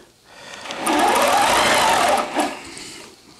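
A longarm quilting machine stitching a placemat with rulers, a close, fast mechanical whir running steadily for about two seconds before winding down and stopping.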